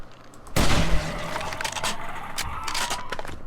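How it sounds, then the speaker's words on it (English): Gunfire in the zombie survival game 7 Days to Die: a sudden loud burst of shots, then a rough, sustained rumble that trails on under faint background sounds. "Now guns are great, and the only downside is they make a lot of noise."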